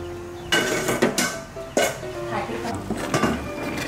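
Thai eggplants drop into a pot of boiling green curry with fish balls, giving several loud knocks and clatters of a pot and utensils close by, with a few splashes and a voice talking through it.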